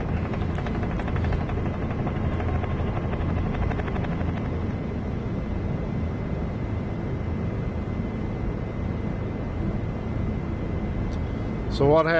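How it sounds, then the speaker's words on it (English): A helicopter's steady, droning rotor noise in the X-Plane 11 flight simulator runs unbroken throughout, with a brief voice right at the end. "So what happens when you over torque the helicopter?"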